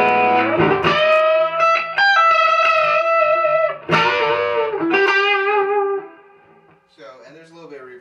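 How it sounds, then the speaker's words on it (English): An electric guitar with a gritty, lightly distorted tone plays through a Matchless open-back 2x10 cabinet. Sustained chords and single notes ring out loud and close, then fade into quieter, sparser picking. "I really use it mainly for a kind of gritty tone that stays on all the time"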